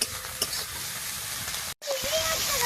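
Chopped tomatoes and salt sizzle loudly in a frying pan with a constant hiss and stirring scrapes, broken by a brief moment of silence near the end before the sizzling resumes.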